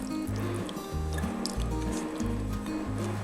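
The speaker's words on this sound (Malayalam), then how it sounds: "ഇനി ഇതിലേക്ക് ഞാൻ ഒഴിക്കുന്നത് 1ാം പാലാട്ടോ. അത് ഒരു 1/2 കപ്പുണ്ട്" First-extract coconut milk is poured into a potato stew, making soft, wet squishing and liquid pouring sounds in short repeated bursts, close and moderately loud, no talking.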